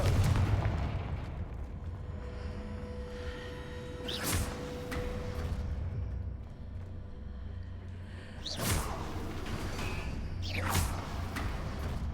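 Confringo fire spell in the game Hogwarts Legacy, loud booming blasts with a whooshing burst, one near the start and a pair close together later, set against a low rumbling game soundscape.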